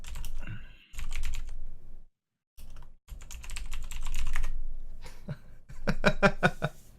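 Rapid clattering keystrokes on a computer keyboard during a Minecraft session, coming in dense bursts separated by short pauses, close and clear with no voices.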